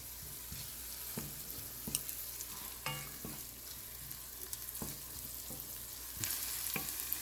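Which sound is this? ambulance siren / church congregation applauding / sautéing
sautéing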